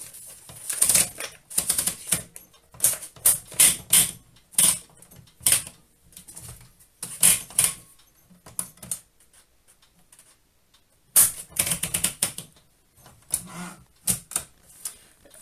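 A 1924 AEG Mignon index typewriter with Fraktur typeface being typed on slowly, irregular clusters of sharp mechanical clacks with pauses between, close and clear with no voices.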